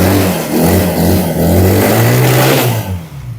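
A used car's engine revs hard and close, a loud, steady roar that surges and dips before easing off at the end.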